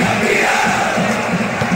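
Stadium crowd in the Winning Eleven 10 football game on PS2, a loud continuous roar of cheering fans that swells without a break over the short stretch.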